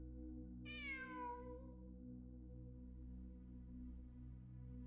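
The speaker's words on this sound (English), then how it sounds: "It really is a cat." A single clear cat meow rises and falls over a low, steady musical drone, followed by quiet background tones.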